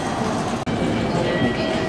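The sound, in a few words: Shirasagi limited express train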